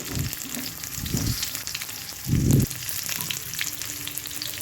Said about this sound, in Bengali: কাজু কিশমিশ ভেজানো ছিল এগুলো দিয়ে দিয়েছি দিয়ে আমি গাওয়া ঘি দেবো এরপরে ভালো করে এটাকে ভেজে নেবো